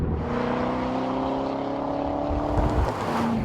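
A 2014 Chevrolet Corvette Stingray Z51 with a direct-injected pushrod V8 and variable valve timing runs at a steady drone, its low engine tone holding level and then lifting slightly near the end.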